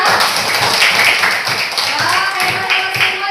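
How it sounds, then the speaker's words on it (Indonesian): Pupils in a Catholic religion class clap their hands together, a loud, busy patter of many small hands that keeps a rough rhythmic pulse for a few seconds. "Ya, tepuk tangan ya."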